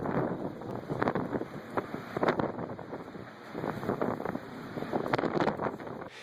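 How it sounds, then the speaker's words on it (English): Strong wind gusting around a port where a huge ship is blown about, a steady loud roar with heavy buffeting on the microphone and no clear voices. "look at that damn wind"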